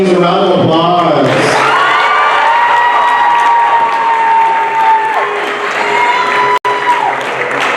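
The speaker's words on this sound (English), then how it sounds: "let's give all of our nominees a round of applause" A prom audience applauds and cheers for the nominees, with loud sustained clapping, whoops and shouts while music tones carry through underneath.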